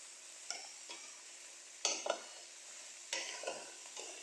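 Ground beef cooking in a pan, with a faint steady sizzle and a few sharp scrapes and clinks of a utensil stirring at intervals, no voices.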